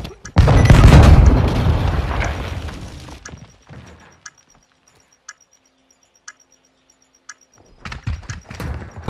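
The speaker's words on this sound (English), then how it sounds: "Stand by to detonate." A detonation in the game Call of Duty: Modern Warfare II, a loud close boom that rumbles and decays over a few seconds, followed by sparse ticking and beeping game sounds and a second burst of noise at the end.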